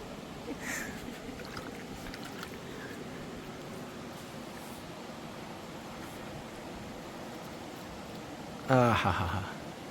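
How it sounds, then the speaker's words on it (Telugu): Steady rushing water flows throughout at a deep stream on the Maredumilli–Chinturu ghat road, with faint voices in the background and a short louder splash near the end. "వాటర్ సౌండ్ అయితే మాత్రం సూపర్ ఉంది ఇక్కడ"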